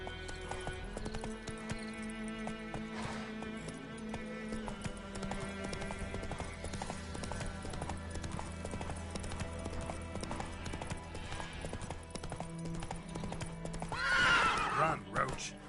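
Roach the horse in The Witcher 3 galloping with rhythmic clip-clop hoofbeats over game music, a rider voice urging it on, and a loud neigh near the end.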